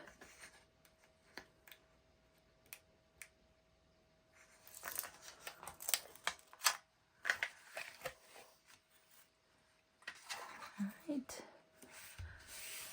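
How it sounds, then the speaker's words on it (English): Craft tape being peeled from a backing while assembling a handmade mini album cover, heard as intermittent soft rubbing and tearing rustles that come in short bursts and grow busier toward the end, close and fairly quiet. "So I'm going to peel some of my tape."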